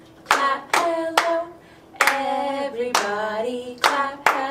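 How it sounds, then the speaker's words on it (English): Hand clapping keeps time in a children's hello song, sharp claps landing in small groups of three, with a sung voice carrying the melody between and over them. "Everybody clap hello, clap hello, clap hello,"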